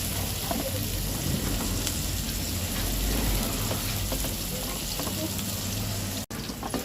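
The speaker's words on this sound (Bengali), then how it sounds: "দেখুন বাগার দেওয়া হবে।" Hot oil crackles loudly as a tempering of chopped onion and garlic goes in, a dense continuous sizzle like heavy rain that stays close and strong, broken by one abrupt cut near the end.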